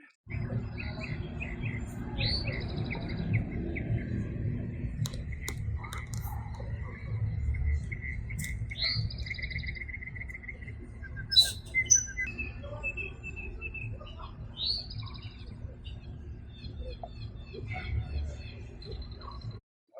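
Bird song plays from the Merlin Bird ID phone app, a run of repeated chirps and whistled calls over a low background rumble, with faint whispering-like voices under it.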